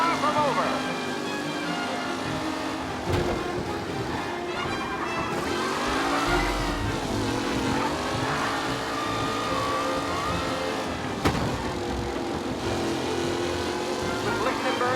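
Race car engines roar through a race in the game Mafia Definitive Edition, a dense continuous mix of several engines rising and falling in pitch as they pass, with a commentator talking over them throughout.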